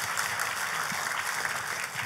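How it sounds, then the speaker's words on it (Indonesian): Church congregation clapping together at a worship service, a soft, steady patter of many hands that stays even and fairly distant throughout, with no voices rising above it. "Kasih tepuk tangannya yang paling meriah buat Tuhan kita"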